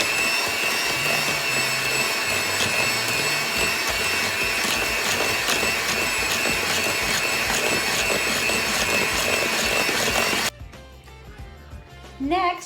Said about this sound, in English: And we're gonna give that another mix with the mixer.